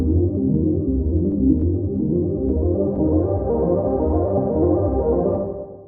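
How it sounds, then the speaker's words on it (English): A Kontakt synth arpeggiator plays a filtered, darker pattern washed in reverb: a continuous pulsing, throbbing sequence with a soft, muffled top end and steady loudness throughout, with no voices. "you can get some really cool synth sounds by using this step modulator as an arpeggiator on your sounds"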